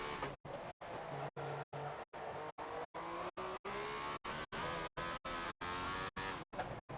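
A 1976 Ferrari F1 car in the Forza racing game brakes hard for the final chicane at Bugatti Circuit, its engine roaring and tires squealing loudly. The sound runs continuously but is chopped into short segments by repeated brief dropouts.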